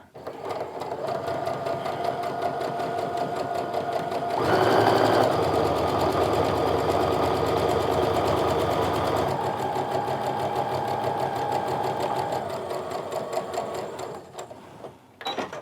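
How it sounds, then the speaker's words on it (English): A sewing machine runs steadily as it stitches straight down the center of a white quilt square, giving a close, fast, continuous mechanical whir that swells briefly and then slows to a stop. "I'm just still going to sew straight down the center, but on the other side of the line that I drew"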